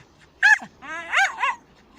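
A dog barks twice near the microphone on a morning marsh walk, one sharp bark and then a longer whining, yelping bark, in quiet surroundings with no talking.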